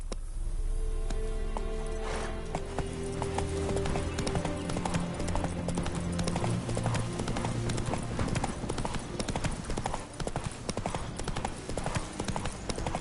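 Roach the horse galloping in The Witcher 3 next-gen game, fast rhythmic hoofbeats pounding continuously over game music, fairly loud and close, with brief speech.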